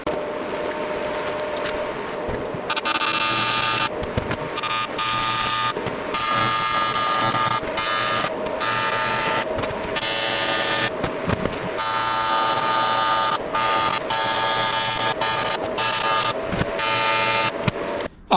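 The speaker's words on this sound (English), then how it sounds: "I'm going to get the welder, I'll get the radiator quickly welded up now." A welder at work on a motorcycle radiator in a workshop, loud harsh buzzing and crackling arcs in repeated bursts of a few seconds each, separated by short quiet gaps, with no talking.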